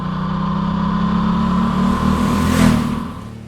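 Ducati Multistrada 1260S motorcycle with its 1,262 cc Desmodromic variable-timing engine, heard while riding: a steady, loud mid-pitched drone that swells briefly near the end as the revs rise.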